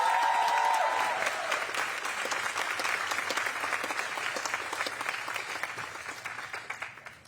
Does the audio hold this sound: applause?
yes